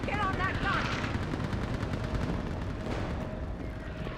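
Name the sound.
mounted gun firing in battle, Mass Effect 3 video game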